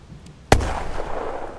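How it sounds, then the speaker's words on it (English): A grenade goes off inside a bunker in the video game The Troop, a single sharp explosive bang followed by a rumbling, debris-filled tail that fades slowly. "we're going to pop a grenade through the slit"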